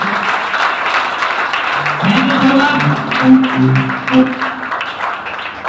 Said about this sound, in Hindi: मिस्टर पप्पूराम सर के लिए जबरदस्त ताली